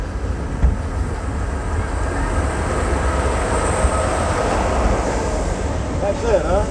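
A cog railway train climbing a mountain, its toothed silver cog wheel turning: a loud, steady rumbling roar with rattling and grinding that carries on without a break.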